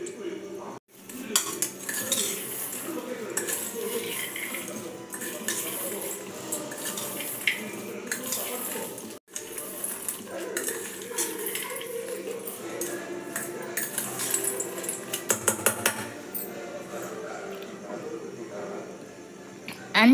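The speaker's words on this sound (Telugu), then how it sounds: "కొత్తిమీర, పుదీనా, నిమ్మరసం ఇవన్నీ వేసుకొని కలుపుకోవాలి." Coriander, mint and lemon juice being mixed into a homemade evening snack in a bowl, with steady close clinking and scraping of a utensil against the dish for about twenty seconds and a brief pause partway.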